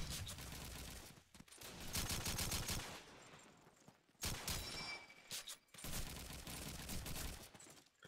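Rapid gunfire in an online multiplayer video game, loud bursts of automatic shots in several long volleys separated by short pauses.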